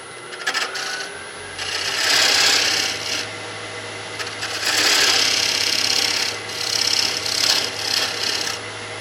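On a wood lathe, a cutting tool scrapes a walnut ring mounted on a glue block. A constant low motor hum runs underneath while bursts of raspy scraping rise and fall in uneven passes.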